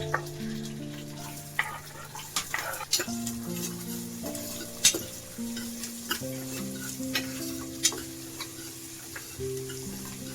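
Onion frying in oil with curry leaves and mustard seeds for misal pav, a soft continuous sizzle broken by irregular spoon clinks and stirring taps against the pan, close by, with a faint background tone and no talking.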